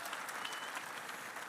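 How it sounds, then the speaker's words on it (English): A university public lecture audience in Murang'a applauds the student president in a short, dense burst of clapping, even and fairly distant, with no voices above it. "Let's give him a warm round of applause."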